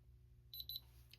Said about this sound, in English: Okay, so it's beeped.